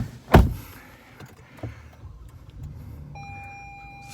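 A Lexus car door shuts with a sharp thump as someone climbs in, followed by faint rustling and a steady electronic chime or whine from the car's systems.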